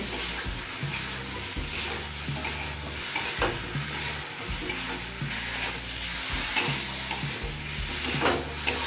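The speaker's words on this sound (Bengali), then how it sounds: "এখন মিডিয়াম ফ্লেমে আরও কিছুক্ষণ সময় নিয়ে খুব ভালোভাবে কষিয়ে নেব" Elephant foot yam stir-fried with spices over a medium flame before hilsa fish head is added, a constant close sizzle broken by regular spatula scrapes and stirs against the pan, with no speech.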